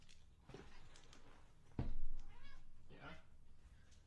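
A cat meows a few times, drawn-out cries over a noisy background, mid-distance, with one louder thump partway through and soft vocal sounds mixed in.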